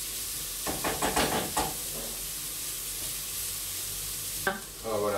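Chopped squid tentacles and small squid sizzle loudly with onions in a pan for a Provençal dish, a constant hiss broken by a few stirring scrapes and a fresh burst of sizzle near the end.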